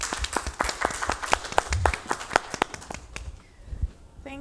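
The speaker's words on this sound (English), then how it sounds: "Give a warm round of applause for Dr." Scattered audience applause at a talk, with sparse, uneven claps close and distant that taper off after a few seconds, followed by a faint thump.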